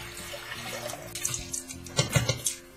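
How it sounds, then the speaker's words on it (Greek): Water splashes and gurgles from a tap into a cooking pot for fava, a short close-up pour with uneven bubbling spurts and no talking. "Στη κατσαρόλα βάζω νερό"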